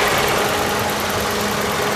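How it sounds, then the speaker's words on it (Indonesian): A used car's engine idles steadily with the whir of its electric AC fan running alongside, a constant close hum with no change in pitch. "Ini hanya ada suara apa namanya, kipas motor fan AC"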